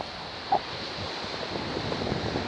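Calm sea washing onto a seaweed-covered beach at St. Osyth, a steady soft wash of surf with wind noise, one brief knock early on, no voices.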